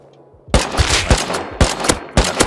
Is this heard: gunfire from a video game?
yes